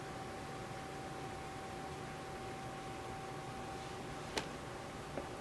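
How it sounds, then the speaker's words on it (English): Electric fan running steadily in a hot room, a faint continuous whooshing hiss with a thin steady hum, broken by a couple of small clicks near the end. "I'm sorry if you could hear the fans"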